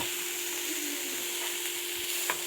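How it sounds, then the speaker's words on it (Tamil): Onions sautéing in a hot pan with oil for a beads poriyal, a steady broadband sizzle with occasional soft stirring scrapes, close and continuous, no voices. "வெங்காயம் போட்டு நல்லா வதக்கி வதக்கி விடுங்க"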